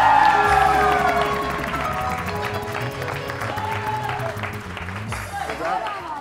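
A studio audience on a morning TV show claps and cheers over musical tones and a host's voice, the crowd noise swelling and mixed with shouts.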